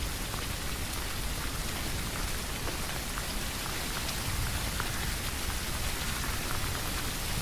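Steady outdoor rain falls throughout, a dense, even hiss of drops with no talking or other sounds standing out.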